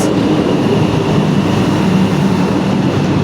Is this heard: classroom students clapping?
no